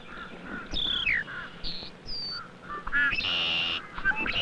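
Red-winged blackbirds mob an owl, firing off repeated sharp, harsh calls and squawks at irregular intervals, fairly close and loud, with bursts clustering toward the end.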